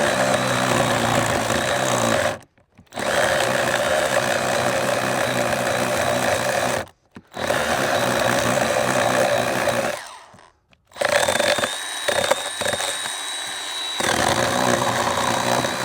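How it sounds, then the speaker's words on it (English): A battery-operated chainsaw cuts into a piece of kindling outdoors, its high motor whine running in long bursts broken by short silent pauses, the last stretch weakening as the battery runs low. "I would take the chainsaw and you just start cutting into it"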